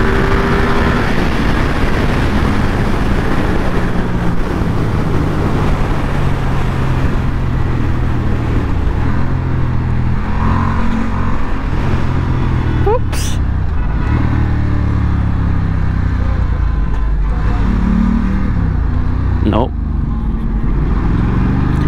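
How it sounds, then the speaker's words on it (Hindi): A Ducati XDiavel S motorcycle roars through a hard launch-control acceleration, engine pitch climbing in several sharp rising sweeps over about twenty seconds, loud and close. "आज हम try करेंगे Ducati XTable S का launch control."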